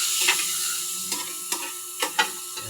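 Vegetables for adobong sitaw hiss in a hot pan, a steady sizzle broken by several short stirring scrapes and clatters.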